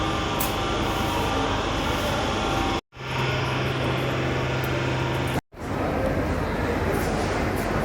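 A local train pulls away and runs with a loud, continuous rumble and rattle of wagons, the roar briefly cut twice, with no talk over it.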